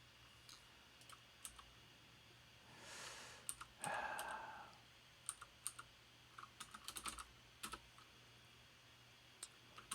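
Sporadic clicks and short bursts of keystrokes come from a computer keyboard during a live coding session, faint and close, with a soft sigh of breath partway through.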